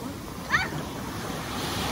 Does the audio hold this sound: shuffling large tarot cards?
no